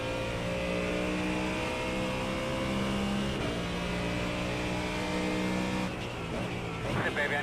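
Race car running on a racetrack during Sunday racing, a steady loud engine drone with strong harmonic whine, a gear change or lift partway through, then revs rising again near the end.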